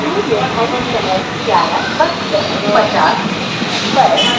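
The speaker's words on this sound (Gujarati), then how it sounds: "ટ્રેન ઊભી જ છે, 10 મિનિટમાં છૂટશે" A busy railway platform with a steady hum of a waiting train standing before departure, and voices chattering throughout the crowd nearby.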